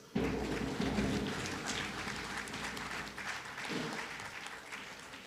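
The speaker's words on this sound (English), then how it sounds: "please, can you give him 3 levels of applause?" Audience applause at a stockbrokers' institute award ceremony, a broad wash of clapping that starts abruptly, swells in two waves and then tapers slightly.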